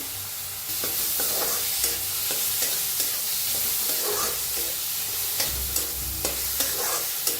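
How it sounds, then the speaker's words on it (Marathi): Finely chopped onion frying in a pan for bread pakora, a continuous close sizzle with regular stirring scrapes and taps throughout, no voices. "त्याच्यात एक कांदा कापून घेतलाय बारीक असा, ते बी भाजून घेऊया"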